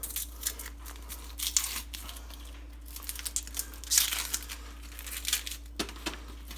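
Papery outer onion skin gets peeled off by hand, giving close, soft crinkling and tearing rustles in uneven bursts over a quiet kitchen hum.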